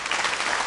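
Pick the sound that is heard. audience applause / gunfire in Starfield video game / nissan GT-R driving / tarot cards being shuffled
audience applause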